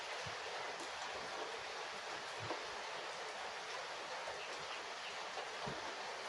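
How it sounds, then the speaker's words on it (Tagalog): Steady, unbroken rain falls as an even hiss in the provinces, with a few faint low knocks beneath and no talk. "Walang tigil na ulan."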